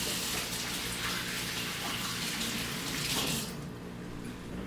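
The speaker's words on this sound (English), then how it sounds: "I am going to wash my hands really quickly." A kitchen tap runs steadily while hands are washed under it, a close splashing gush that softens near the end.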